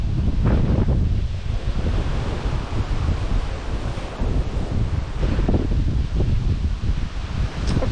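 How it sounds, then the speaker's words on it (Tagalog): Strong wind roars against the microphone in heavy gusts, with surf or rustling mixed into the steady rushing noise. "Lakas yung hangin. Grabe."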